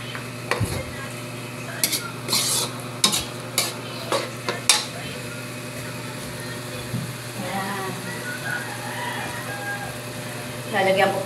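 Bopis, a dish of liver and gizzards, stir-fries with chili in a pan, giving a steady sizzle with sharp clacks and scrapes from stirring. Someone talks over the cooking.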